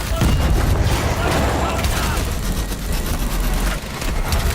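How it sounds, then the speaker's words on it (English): Explosions and gunfire from the Call of Duty: Advanced Warfare campaign, a dense, loud, continuous rumble of booms and shots lasting throughout, with voices faintly mixed in. "explosion."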